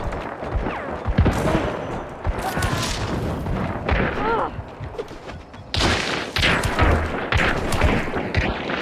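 Penny shot gunfire in Hunt: Showdown, sharp booming blasts scattered through a busy, loud game mix with several impacts close together and a burst near the middle.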